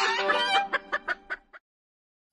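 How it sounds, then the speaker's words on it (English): Chickens cluck in a quick run of sharp, close calls that tail off into silence, a short sequence with no voices. "So what about Flora and his chickens?"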